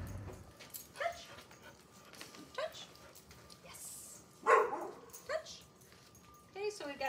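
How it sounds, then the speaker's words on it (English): A neighbor's dog barks in the distance, giving scattered yips and whimpering barks at irregular intervals, faint and intermittent against a quiet indoor background. "So we've got a neighbor dog barking,"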